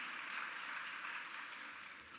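Steady, dense audience applause from a crowd at a 2017 European-affairs session, filling the room evenly at moderate volume with no voices over it.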